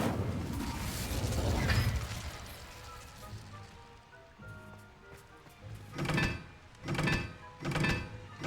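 Fire spells cast in the Hogwarts Legacy video game land as repeated short, punchy bursts, with three evenly spaced impacts near the end after a rumbling, crashing stretch at the start.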